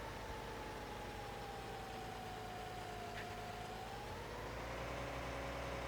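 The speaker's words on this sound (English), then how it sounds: "I do like the way the engine note changes in this as the load changes" A tractor engine hums steadily in Farming Simulator 19, its tone shifting slightly as the load changes, with a faint, constant drone throughout and no speech.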